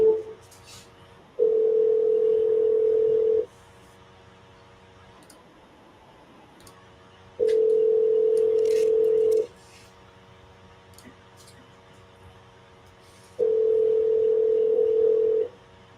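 A telephone ringback tone sounds in three regular bursts of about two seconds, separated by quiet gaps, while a sales call to a lead is placed; faint clicks appear between rings.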